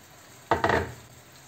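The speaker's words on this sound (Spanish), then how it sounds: "Aquí le doy unos golpecitos para que pase el líquido más rápido" Blended sauce poured through a strainer into a pan of frying chicken, a single short burst of sizzling with a light tap, then quiet kitchen background.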